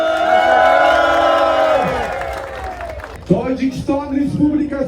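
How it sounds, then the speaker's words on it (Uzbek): A large crowd at a public event bursts into cheering, whoops and clapping after an announcer's amplified voice, the applause rising loud and close around the listener. "Tojikiston Respublikasiga alohida qarsaklar."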